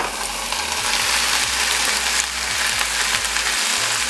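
Green beans and other ingredients are stirred together in a hot pan for a tater tot hotdish, a steady close sizzle with repeated scraping, clicking strokes of a utensil against the pan, loud and continuous without voices.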